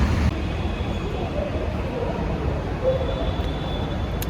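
A metro train carriage riding along, a steady low rumble and rolling hum continuing evenly throughout with faint high whine above it.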